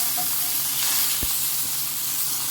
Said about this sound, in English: Searing the beef tenderloin or the beef fillet only takes around 20 seconds